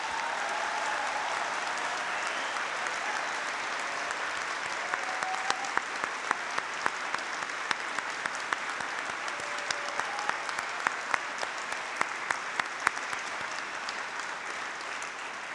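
A graduation ceremony audience applauds steadily throughout, a dense, sustained wash of clapping from a large crowd with occasional sharper individual claps standing out, no speech over it.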